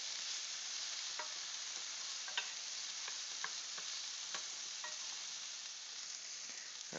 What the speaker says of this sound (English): I gotta make sure that I stir my vegetables so they don't stick and burn